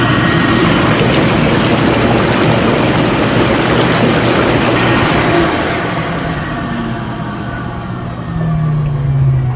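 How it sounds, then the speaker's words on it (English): A Bestway SaluSpa inflatable hot tub's air bubble jets run with a loud, close churning roar of bubbling water and blower noise that eases off partway through, then a lower hum with a faint rising tone. "I guess we can test out the bubbles right now too"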